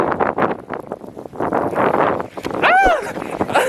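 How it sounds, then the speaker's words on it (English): Strong gusting wind in a snowstorm buffets the microphone with steady low rumble, and a person talks and shouts over it throughout. "It's just the wind is fucking it up."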